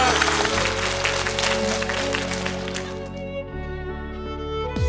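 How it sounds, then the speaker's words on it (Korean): Studio audience applause on a Korean KBS talk show, clapping mixed with background music and tones, fading somewhat toward the end. "박수 한번 쳐줘"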